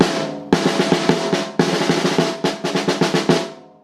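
A drum with no dampener on the head struck repeatedly in quick bursts, each hit leaving a high, ringing overtone that hangs on between strokes, close and fairly loud.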